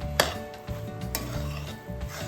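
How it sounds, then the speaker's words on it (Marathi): Soya chunks being stirred with chili powder and salt in a pan, a steady scraping and rubbing with soft clinks against the metal, close and continuous with no talking. "आणि आता हे व्यवस्थित मिक्स करूयात"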